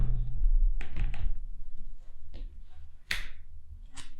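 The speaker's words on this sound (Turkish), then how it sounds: "Tabi menteşesi kuvvetli olduğu için şöyle açtım." Lid of a Monster Tulpar T7 gaming laptop with a stiff hinge being pried open: a few sharp clicks and knocks in quick succession, then scattered taps and handling thuds close up in a quiet room.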